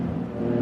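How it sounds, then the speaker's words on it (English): A loud car passes close outside, its steady engine rumble filling the moment without a break. "That car is so loud."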